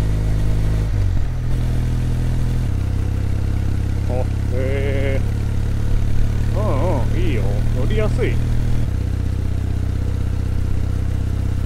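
A Kawasaki W800 air-cooled motorcycle engine idles with a steady low exhaust rumble throughout, while someone speaks briefly over it.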